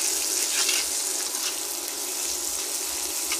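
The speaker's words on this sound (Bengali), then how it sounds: "রসুন থেতো করেছি দিয়ে দিলাম, পেঁয়াজ কুচো, লবণ দিয়ে দিলাম" Crushed garlic, chopped onion and salt frying in a pan for a potato curry make a moderate, even sizzle with faint watery crackle, close and without talk.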